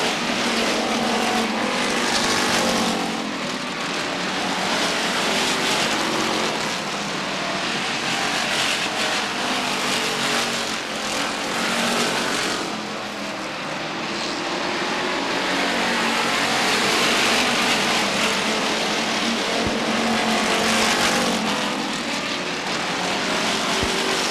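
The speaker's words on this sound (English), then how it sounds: "Wide racing on the backstretch, cars up against the backstretch wall." Stock cars race wide on the backstretch at Beech Ridge Motor Speedway during a 1992 weekly event. Their engines roar loud and continuous, swelling and fading as the pack passes, with no talk over them.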